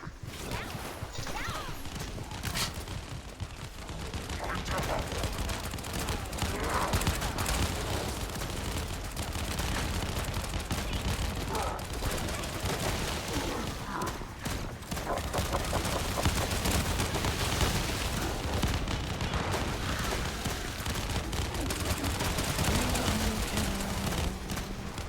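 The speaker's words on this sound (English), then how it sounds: "You've been hearing the fireworks go off?" Fireworks burst during an anniversary event in the video game The First Descendant, a dense, continuous crackle of rapid pops and bangs running throughout with voices mixed in.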